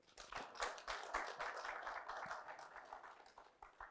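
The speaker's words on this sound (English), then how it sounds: "another round of applause" An audience at a construction and engineering supplier day applauds, a steady wash of many hands clapping at a moderate distance, sustained and fairly even for several seconds.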